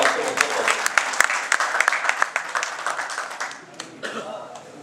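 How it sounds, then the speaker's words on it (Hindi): Applause from party workers at a Congress block meeting, a dense burst of clapping with sharp individual claps standing out, thinning slightly toward the end, with a voice faintly underneath. "एक बार जोरदार तालियों के साथ"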